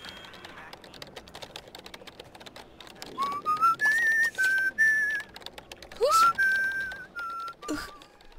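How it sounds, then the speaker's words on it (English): A whistled tune from The Sims 2 life-simulation game: a series of clear, sustained melodic notes rising and falling over about five seconds, fairly loud against a quiet background of soft game ambience. "Who was whistling?"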